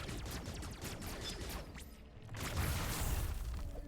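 Rapid free-aim beam shots in Metroid Dread crackle as a dense, steady barrage of bursts, swelling louder near the end with game music underneath.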